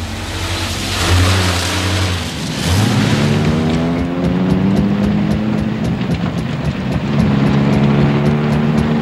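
Old car engine running roughly, a mid-pitched drone that swells and revs unevenly, rising in pitch after a brief stumble, loud and close with no voices over it.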